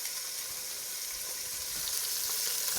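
Beef short ribs and vegetables searing in a hot pan, a loud, dense, continuous sizzle close up, steady throughout.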